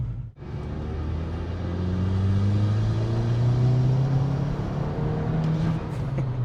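A tuned VW Golf GTI Edition30 Mk5 engine revving close by, a deep, loud rumble that climbs and holds, then eases slightly near the end.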